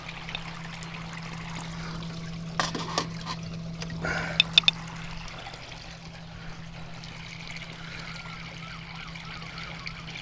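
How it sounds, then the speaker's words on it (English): Steady water flowing and trickling through a koi pond, a continuous wash of splashing with a few brief knocks partway through. "The fish seem to be enjoying this amount of water moving around."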